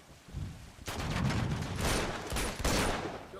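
Gunfire in Uncharted 2: Among Thieves breaks out as dense, loud volleys of shots, several overlapping bursts with a few sharp cracks, after a quieter start and with no talking.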